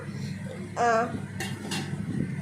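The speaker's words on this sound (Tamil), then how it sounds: "நூடுல்ஸ் உடையாமல் மிக்ஸ் பண்ணுங்கள்." Noodles being tossed and mixed in a pan at home, with a few clinking scrapes of utensil against metal over a steady low background hum, one louder clatter standing out briefly.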